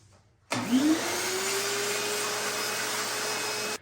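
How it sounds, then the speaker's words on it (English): A shop vac kicks on abruptly to suck water from the bottom of a dishwasher, whining up in pitch before settling into a loud, steady drone with a constant high tone. "use a shop vac to suck up whatever water is still in the bottom of this."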